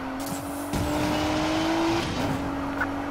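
In the video game Need for Speed Payback, engines rev during a police car chase after an Audi S5. A car roars close and loud with a sustained engine note that swells and shifts pitch, and there is no talking.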